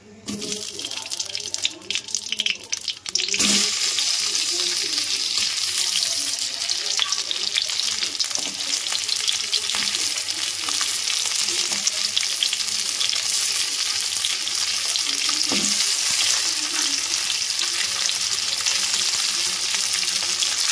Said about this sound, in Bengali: এবার যে কেটে রেখা সবজিগুলো আমি রেখেছিলাম, পেঁয়াজ, ক্যাপসিকাম, সব তেলের মধ্যে এক এক করে কিন্তু দিয়ে দেব।